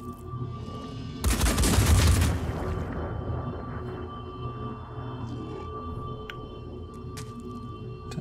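Rockets fired in the video game Phoenix Point: a loud, rough burst of launches and blasts lasting about a second, then a fading rumble and sparse distant clicks over a low game ambience, with no talking.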